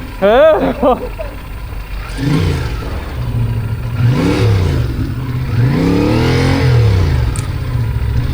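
A motorcycle engine labours and revs in first gear on a steep off-road climb in the Margalla Hills near Islamabad, the note rising and falling in repeated surges, close and loud, with someone speaking over it.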